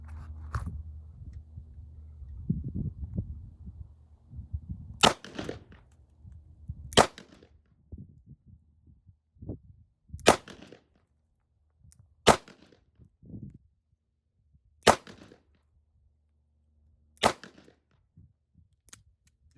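Six sharp, loud gunshots from a Colt Agent .38 Special lightweight snub-nose revolver at an outdoor range, spaced a couple of seconds apart, following some handling clatter and low rumbling at the start.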